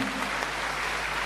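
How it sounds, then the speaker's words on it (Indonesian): An audience at a dhamma talk claps, a brief, dense burst of steady applause filling the room. "tepuk tangan untuk Anda semua hari ini"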